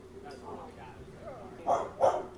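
A dog in a neighbor's yard barks twice, short and fairly distant, following softer whimpering sounds, with people talking faintly in the background.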